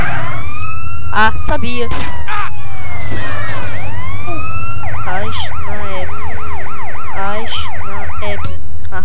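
Police sirens wail in the GTA San Andreas video game, loud and close, first a rising and falling sweep, then a rapid repeating yelp pattern, with brief bursts of game noise and a short spoken comment.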